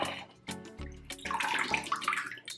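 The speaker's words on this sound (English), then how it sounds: "get the onions out of here and rinse those off." Running tap water rinses onions at a kitchen sink, a steady broadband splash and gurgle that swells after a few brief knocks and handling sounds, close and fairly loud throughout.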